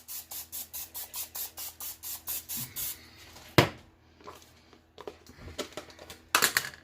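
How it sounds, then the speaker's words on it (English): Rapid bursts of cooking oil spray hiss onto cauliflower in a quick regular series, then a few clatters and a couple more short sprays close by. "So now what I'm going to do is spray my cauliflower."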